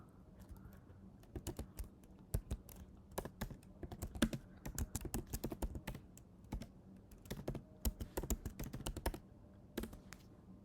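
Continuous computer keyboard typing at a terminal during a Laravel install: irregular bursts of sharp, close key clicks with brief pauses, moderately quiet and alone, with no talk.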